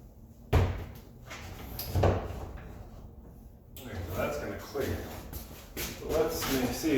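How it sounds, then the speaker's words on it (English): A newly installed bifold door is swung shut in a couple of sharp knocks and thuds, followed by softer rubbing and shuffling against the frame and floor, with a voice speaking nearby. "See if the door actually closes."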